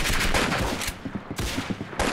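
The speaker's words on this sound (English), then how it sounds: "My gun was pointed directly at him, but no, it doesn't work." Gunfire in the video game Arsenal: several loud, sharp shots crackle in quick bursts, a rapid volley at first, then scattered pops after a brief pause.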